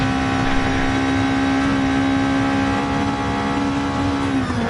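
A Bugatti race car engine in a racing video game holds a steady, loud, high drone throughout, dipping slightly near the end as the revs shift, with no voices.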